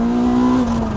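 A 2020 Honda Civic Type R engine revving hard at high rpm as VTEC engages, a loud sustained, steady engine tone heard from close by with no talk.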